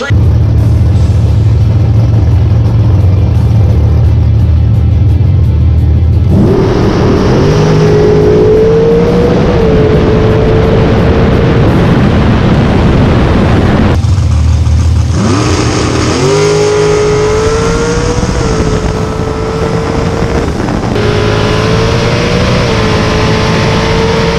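Bracket racing cars at a New Year's Nationals drag strip idle loudly at the starting line, then launch with roaring, rising engine revs; two surging runs sweep up in pitch, very loud and close, with no talk.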